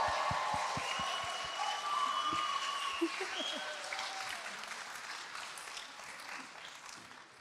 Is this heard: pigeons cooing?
no